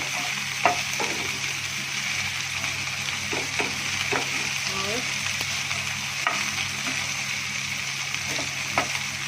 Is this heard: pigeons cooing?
no